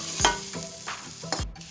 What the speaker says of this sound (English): I'm then going to stir it really quickly